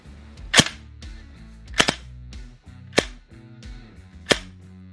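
Four sharp, loud shots from a VFC M249 gas blowback airsoft machine gun, fired singly at uneven intervals of about a second, each with a brief mechanical clatter of the blowback action and no talk.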